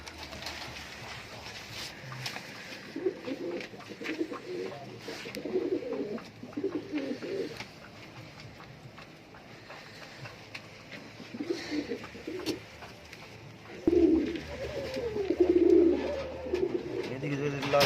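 Fancy pigeons, fantail and Lahori breeds, coo repeatedly in low rounded bursts close by, the calls coming in clusters with quieter gaps and growing stronger near the end.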